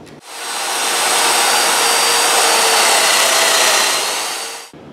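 Joiner plunge-cutting mortise slots for floating tenon dominoes in a small secretary's base, a single sustained loud whirring motor buzz that spins up, holds steady for about four seconds and then stops, close and alone.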